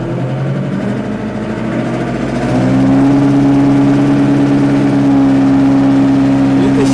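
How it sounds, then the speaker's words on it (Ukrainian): A Lovol 504 tractor engine idles with a rough diesel rumble, then the throttle opens to around 2000 rpm and it settles into a louder steady drone with a strong hum, close by. "а зараз дам газу десь 2000 оборотів"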